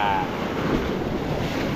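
Large ocean waves crash amid strong wind, a loud, continuous roar of surf and wind buffeting the microphone close by.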